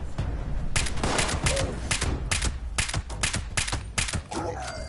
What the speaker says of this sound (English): I want to use up all my bullets, but like randomly, sporadically shooting.